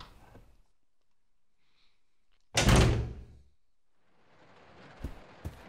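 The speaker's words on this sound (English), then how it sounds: "I was trying to get through the freaking door." In the video game Resident Evil 0, a heavy door opens with one loud thudding, creaking burst after near silence, then faint room ambience and two small knocks.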